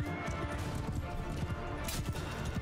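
Horses gallop in a Mount & Blade II: Bannerlord battle against horse archers, a dense, steady drumming of hooves with a neigh and clashing combat noise mixed in.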